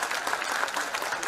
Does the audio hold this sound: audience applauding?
yes